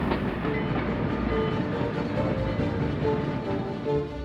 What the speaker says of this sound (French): Nos trains traversent les paysages